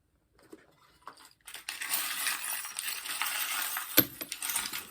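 Small metal charms for a tarot reading are handled and dropped, a close jingling clatter of tiny pieces shaken together after a few soft touches, with one sharp clink standing out.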